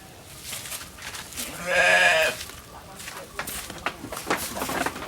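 A goat gives a single loud bleat in the middle, close by, with someone talking before and after it.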